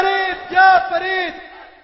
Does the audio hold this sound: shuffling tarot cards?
no